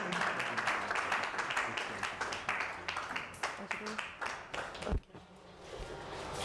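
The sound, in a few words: audience clapping for Enas Enahoro's presentation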